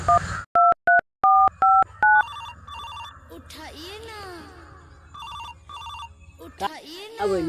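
A phone call is placed: a run of loud, evenly spaced keypad dial tones, then a steady pulsing ring-back repeating several times, with voices speaking in between and over the ringing.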